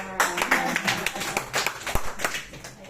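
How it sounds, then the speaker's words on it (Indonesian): Children clapping their hands in a school or classroom setting, a brisk run of sharp, uneven claps close by with some voices mixed in. "Tepuk tangan anak-anak"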